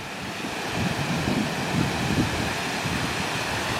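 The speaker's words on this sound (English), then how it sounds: "You can definitely hear the water gushing, see it gushing." Water gushing outdoors after heavy overnight rain, a steady broadband rushing roar with no distinct events, mixed with some wind buffeting on the microphone.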